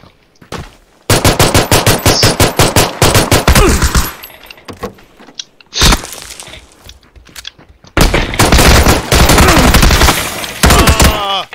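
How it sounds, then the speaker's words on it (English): Machine gun fire in the video game PUBG: loud, rapid automatic bursts rattle off in long strings, broken by brief pauses and single close shots, with a final sustained volley. "Bitch brought a machine gun to a pistol fight"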